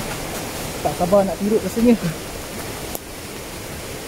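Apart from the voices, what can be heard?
loud waterfall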